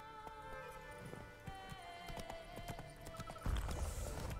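Horse hooves clip-clop at a gallop in The Witcher 3: Blood and Wine, a quick rhythmic patter of strikes over a faint musical backdrop, growing louder and heavier near the end.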